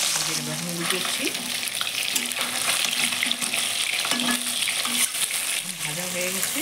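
Katol fish fries and is turned over in hot oil in a wok, a strong continuous sizzle with utensil scraping, while a person speaks intermittently over it.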